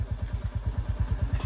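Motorcycle engine on a ride through a village road, a steady rapid low thumping pulse, close and loud, with no talk over it.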